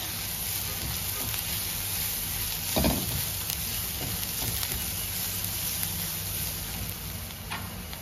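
Chilli powder and coriander-cumin powder are stirred and fry in a pan for pav bhaji with a continuous close hiss. A brief scraping stir swells partway through, and no one talks.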